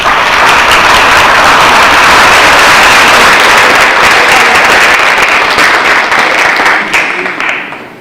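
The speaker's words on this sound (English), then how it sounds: "let's give a round of applause to the members of the Plata High School Brass Quintet" An auditorium crowd at a class reunion claps for a high school brass quintet, a loud, dense round of applause that holds steady before tapering off at the end.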